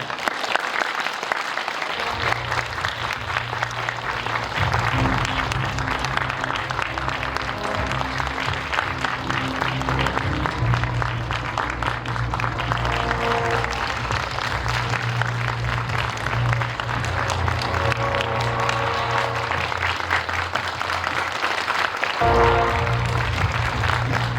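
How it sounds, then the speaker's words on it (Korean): A packed cinema audience at a film's guest-visit screening applauds continuously as the cast and director walk onto the stage, a steady dense wash of clapping with a low musical hum underneath. "박수 부탁드릴게요."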